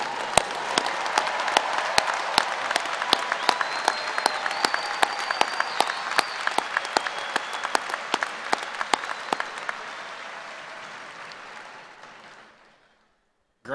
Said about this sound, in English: Please join me in one more round of applause for all of our graduates.